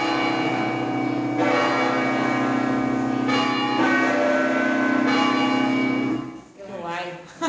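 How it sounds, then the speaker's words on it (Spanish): Church bells ring with rich sustained tones, several strikes overlapping and fading, fairly distant, before the ringing cuts off near the end. "vamos a escuchar las campanas"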